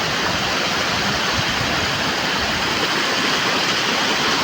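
Khuntapashi Ghagi waterfall in Keonjhar roars as a steady, loud wash of falling water, constant broadband rushing with no voices over it.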